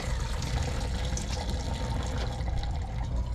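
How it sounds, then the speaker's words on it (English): Crawfish boiling liquid pours and splashes steadily into a sink, a continuous broadband wash of water with no pauses, fairly close. "Pour it in the sink."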